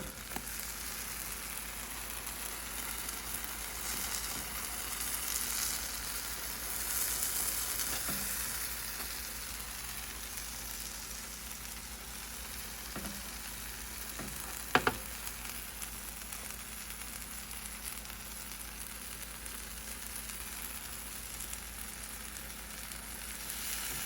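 Keto blueberry pancakes frying in a pan, a steady soft sizzle running throughout with a couple of faint utensil clicks near the middle, no voices.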